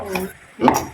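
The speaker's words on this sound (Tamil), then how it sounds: "இப்போ இது நல்லா கலக்கிக்கும்" A spoon stirs rice-flour batter mixed with soda and colour powder in a pot, making two short, close scraping bursts against the vessel.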